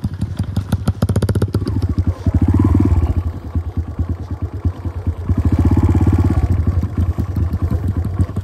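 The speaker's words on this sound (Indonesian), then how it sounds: "Oh, ada motor nih." A motorcycle engine idles and revs nearby, its rapid chugging pulse swelling twice into louder throttle bursts before settling back.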